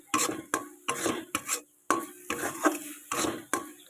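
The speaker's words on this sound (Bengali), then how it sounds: "এটাকে সুন্দর করে নাড়াচাড়া দিতে হবে" A spoon stirs a carrot laddu mixture in a pan, with a run of short, distinct scraping strokes in an uneven rhythm, close and moderately loud, with silent gaps between them.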